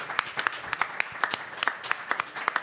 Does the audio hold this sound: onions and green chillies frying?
no